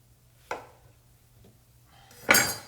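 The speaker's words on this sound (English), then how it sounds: "So we're just chopping up some strawberries." A knife chopping strawberries on a cutting board while a fruit mojito is made, giving two distinct knocks about two seconds apart, the second louder and more clattering, with no talk.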